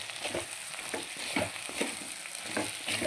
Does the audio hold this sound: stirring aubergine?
yes